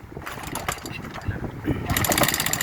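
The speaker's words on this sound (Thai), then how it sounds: "ฟังเสียงดูดิ เนี่ยเครื่องดีเซล" A diesel engine runs close by with a rough, steady mechanical clatter and irregular knocking, growing somewhat louder toward the end, with no talk over it.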